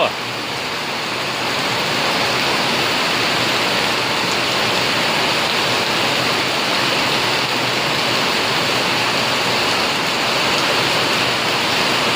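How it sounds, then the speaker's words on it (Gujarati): Steady, dense wash of heavy rainfall, constant and loud throughout with no letup. "વરસાદ ચાલુ થઈ ગયો મિત્રો, ફૂલે ફૂલ વરસાદ મિત્રો"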